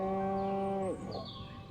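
In the Destroy All Humans! video game, a cow lets out a single long, sustained moo, loud and close, that cuts off abruptly into faint ambient background.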